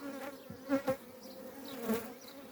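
Honey bees hum around an open hive during beekeeping in a faint, steady buzz, with a few bees swelling louder as they pass close by.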